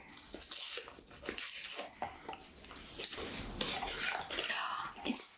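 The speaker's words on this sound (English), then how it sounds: "I'm going to open the paper." Paper wrapping around a jewelry gift box is opened, with continuous close crinkling and rustling that comes in uneven bursts.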